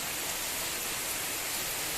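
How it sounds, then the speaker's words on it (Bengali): Steady, dense rainfall hisses evenly throughout, a broad wash of drops with no pauses or voices. "এরকম বৃষ্টি হচ্ছে দেখো"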